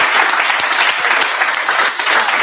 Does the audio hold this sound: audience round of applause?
yes